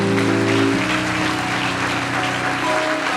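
A church congregation applauds, a sustained, loud, dense wash of clapping with sung or shouted acclamation fading underneath.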